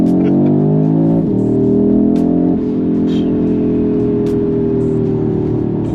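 A 400-horsepower five-cylinder 2.5 TFSI engine in an Audi RS3 8Y pulls hard and loud through the gears, its steady drone climbing in pitch with brief dips at each shift.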